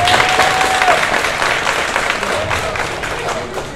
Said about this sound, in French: je demande à l'ensemble ici présent d'applaudir M.